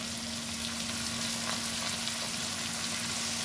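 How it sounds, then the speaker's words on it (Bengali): Kudri sizzles steadily in hot oil with poppy seed paste and chilli paste, a continuous even frying hiss with faint stirring, no voices. "এবার ভালো করে কুদলিগুলো পোস্ত দিয়ে ভাজা ভাজা করে নেব।"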